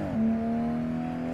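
A car engine in a racing video game drones at steady, low revs while bogging during a drift, a brief rough dip at the start settling into a flat, sustained hum.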